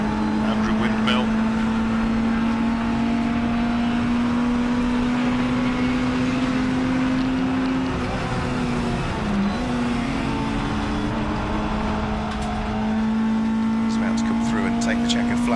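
A Honda tin-top race car holds a steady, loud engine drone as it passes on the Silverstone circuit, with a brief dip in pitch midway, under continuous commentary.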